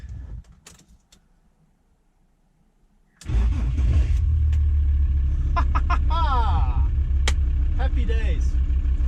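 A VW Transporter T4 2.5 TDI diesel after an injector replacement cranks briefly and catches, then settles into a loud, steady, close diesel idle. Quieter faint sounds come before the start.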